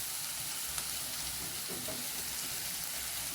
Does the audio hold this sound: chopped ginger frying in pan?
yes